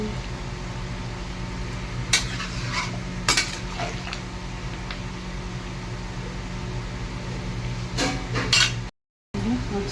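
Chilli chicken coated in cornflour being stirred in a large wok, with a spatula scraping and clanking against the metal every so often over a steady background hiss, close and fairly loud.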